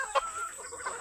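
Chickens clucking in short bursts close by, with a steady high hiss in the background and no talking.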